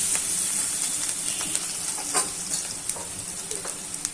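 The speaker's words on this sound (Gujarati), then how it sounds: "આપણે ખીચાની નાની નાની ડુંગળી નાખી દઈશું" Small onions sizzle and crackle in hot oil, a steady close frying hiss with scattered pops and stirring scrapes throughout, no voices.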